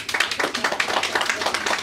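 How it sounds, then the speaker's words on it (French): Audience at a cultural day celebration applauding, a steady patter of many hands clapping with rhythmic peaks, moderately close, with a faint voice in the background. "applaudissez pour vous"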